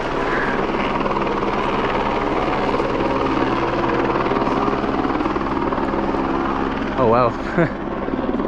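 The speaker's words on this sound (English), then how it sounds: "There's literally helicopters coming here like every 5 minutes," Helicopters flying near Annapurna Base Camp in Nepal: a loud, steady rotor drone fills the whole stretch, with a voice breaking in briefly near the end.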